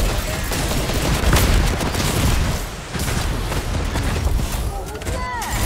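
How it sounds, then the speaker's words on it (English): Rapid gunfire in a Fortnite Season X battle: dense, loud bursts and booms crackle almost without pause, with a brief lull midway, while players' voices come through at times. "Wait, they're shooting at people."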